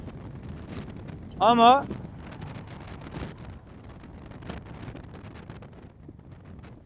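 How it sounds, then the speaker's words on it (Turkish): Wind buffeting the microphone while riding an off-road scooter through the Şamlar forest, a steady rumbling roar throughout, with a brief spoken word over it. "yine rüzgar soğutuyor"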